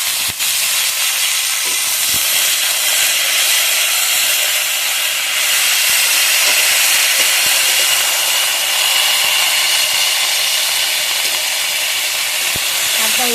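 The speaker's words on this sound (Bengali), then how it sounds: "শাকটা এইভাবে ভালোভাবে আমি ভেজে নেবো আগে।" Washed greens frying in hot oil with dried chilli, black cumin and garlic, a loud, continuous sizzle and hiss that holds steady throughout, close up.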